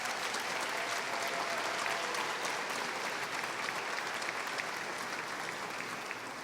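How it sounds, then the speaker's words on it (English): A crowd at an annual state house rally applauds, a faint, dense, steady patter of clapping that lasts throughout with no distinct voices. "All of you, give yourselves a round of applause."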